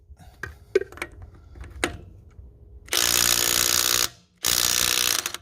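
A Makita 18V Blue Edition sub-compact 1/2-inch cordless impact wrench with a half-inch socket hammers on a lug nut. A few light clicks come first, then two long, loud, steady rattling bursts with a short gap between them.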